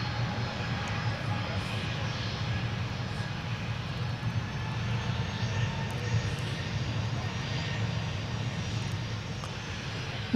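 An airplane landing at Dallas Love Field, coming in over the west side of the airfield, makes a continuous low engine rumble and rushing whine at a constant, moderate level.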